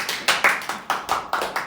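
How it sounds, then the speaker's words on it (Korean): Hand clapping by a small group of K-pop idols during a V Live broadcast, about eight close, bright claps in a loose, slightly uneven rhythm with no talking over them. "박수!"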